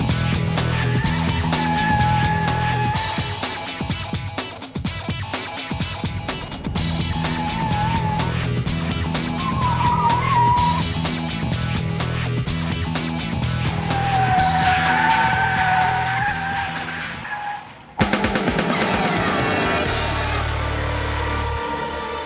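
A race car slides around a skid pad at a racing school, tires squealing in long, wavering whines over a loud, steady engine drone, close up, with a short cut near the end.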